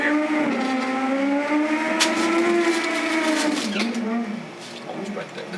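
Six-second 200 mph drag motorcycles race down the strip at the 2015 PMRA World Finals, a loud high engine whine that sweeps across the clip, with an announcer talking over it.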